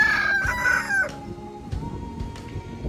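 A rooster crows once, close and loud, the call breaking off after about a second and followed by soft clucks and rustling farmyard noise.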